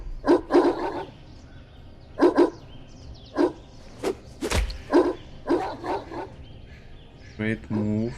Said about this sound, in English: Why they're barking? Wolves don't really bark like this.